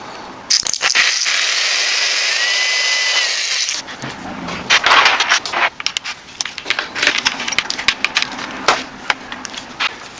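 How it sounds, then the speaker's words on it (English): A power drill whines loudly at first, then bites into plastic with rough, uneven grinding bursts, close up and without talk. "So when I start with the bigger drill bit"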